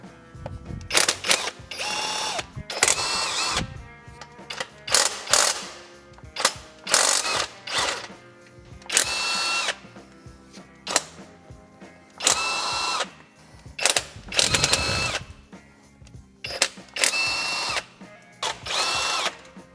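A ratchet clicks rapidly in repeated bursts as water pump bolts are loosened on a Toyota 2UZ-FE engine, with metallic clatter and short pauses between each run, close up.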